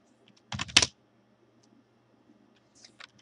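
Fingers type a short command on a computer keyboard, with a quick burst of two loud close key clicks followed by a few faint, sparse taps in a quiet room.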